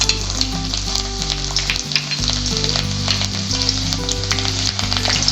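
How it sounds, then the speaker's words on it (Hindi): Nine or ten garlic cloves frying in hot oil in a kadai give off a steady, close sizzle throughout, with a droning tonal hum running underneath. "अब हम इसमें डालेंगे 9-10 लहसुन की कलियां,"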